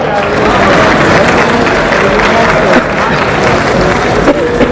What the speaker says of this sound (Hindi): आप सबकी तालियों में भी एक संगीत है।